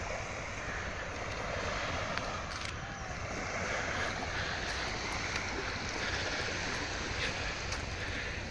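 Sea waves rolling onto Bakkhali beach, a steady broadband wash with wind across the microphone and a fishing boat out on the water, continuous and fairly soft with no talk.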